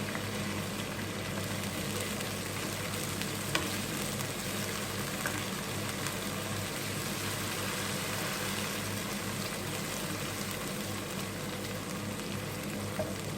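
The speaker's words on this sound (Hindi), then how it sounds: "अब हमारा अदरक लहसुन थोड़ा सा भुन चुका है" Ginger garlic paste frying in a pan, a continuous dense sizzle holding steady throughout, close and even, with no voices over it.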